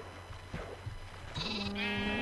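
Sheep in a video game give a short bleat near the end, preceded by softer game noises, fairly quiet overall with no talk.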